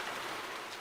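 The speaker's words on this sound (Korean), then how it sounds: "들판에 나뒹군 두 사람의 주거미로 스산한 빗소리가 뒤덮여" Rain falls as a dense, even hiss of drops spattering on surfaces, steady and unbroken for a brief moment with no other sounds.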